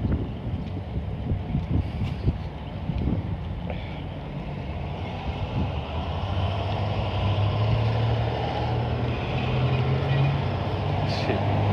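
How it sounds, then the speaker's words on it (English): Slow-moving city traffic in Washington DC, heard from inside a vehicle as a steady low engine rumble with wind buffeting, growing fuller in the second half. "Traffic moves so slow, you can about walk as fast as the cars"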